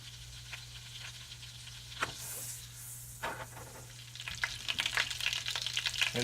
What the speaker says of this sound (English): We're gonna melt 4 tablespoons of butter in a saute pan.